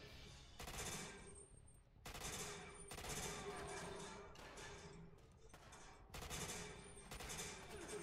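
Bursts of automatic gunfire in the game 007: Quantum of Solace, several sharp rattling volleys separated by short pauses, close and fairly quiet overall, with no talk.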